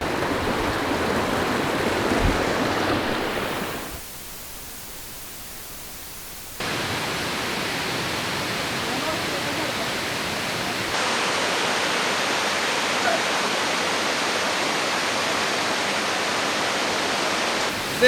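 A jungle waterfall in Panama pours steadily, a dense close rush of water that drops out briefly and then returns a little brighter, with no voices.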